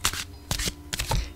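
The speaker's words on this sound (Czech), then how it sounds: "Já si tady celou dobu míchám Anděle Hvězdného Avalonu." Angels of Star Avalon oracle cards being shuffled by hand, close and crisp, in three quick riffling bursts separated by short pauses, with no talking.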